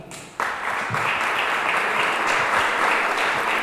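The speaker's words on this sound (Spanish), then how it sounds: "me gustaría que le dieran un aplauso al doctor César" Sustained applause from a conference audience, starting abruptly after a brief quiet moment and continuing steadily at full strength.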